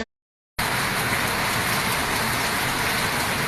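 After a brief moment of silence, a dense steady roar of rain falls in front of a house, loud and unbroken to the end.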